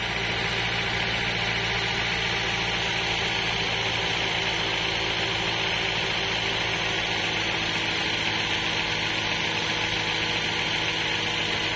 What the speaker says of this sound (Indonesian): Tekanan kompresi dari mesin masuk ke water jacket mengakibatkan air meluap.